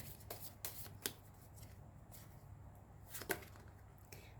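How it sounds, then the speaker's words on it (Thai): Tarot cards gathered up and shuffled at a table during a reading, with soft riffling and a few crisp snaps and taps spread across the clip, close and fairly quiet with no talking. "เดี๋ยวอาจารย์ขอเก็บไพ่ตรงนี้ก่อนเดี๋ยวไม่งั้นมันจะงงนะคะ"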